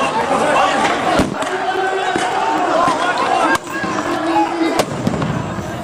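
Stun grenades bursting during an Israeli police raid on worshippers at prayer in the Al-Aqsa mosque, several sharp loud bangs spaced through a dense, noisy crowd din with shouting voices.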